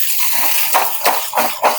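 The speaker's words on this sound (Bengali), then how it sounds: "আমি এখন কচুরলতিটা ধুয়ে নিচ্ছি।" Taro stolons (kochur loti) are washed under water in a home kitchen, with close splashing and sloshing that comes in several short bursts.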